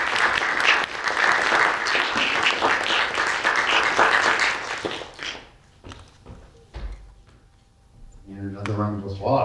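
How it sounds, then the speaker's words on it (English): Audience applause at a talk on human dignity and criminal justice reform: dense, steady clapping fills the first five seconds, then fades out, and a voice begins speaking over the quiet tail. "And another round of applause."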